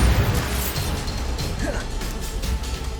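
Bombarda spell detonating in Hogwarts Legacy, a dense crash-and-pop blast with mechanical clatter and rumbling low end over steady game ambience, no clear single boom.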